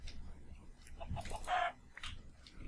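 Chicken clucks from a Minecraft game, a short burst of squawky calls near the middle over low background rumble and faint game noise.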